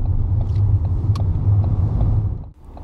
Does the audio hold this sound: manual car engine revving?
yes